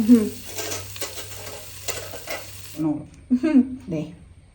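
Food sizzling and being stirred in a hot pan, with a steady frying hiss and scraping strokes for most of the clip before the sizzle cuts out, while a person speaks throughout.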